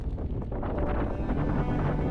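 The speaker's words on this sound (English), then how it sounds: "the wind is terrible and the rain's getting pretty bad as well" Heavy wind roars into the microphone as a dense, low, continuous rumble, with no voices, on a cycling road on a remote Atlantic island in worsening rain.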